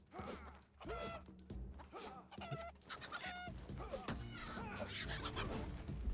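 Chickens cluck and squawk repeatedly in the video game Runescape: Dragonwilds, several birds close by in a busy, overlapping chorus over a steady game soundscape, with some talk mixed in.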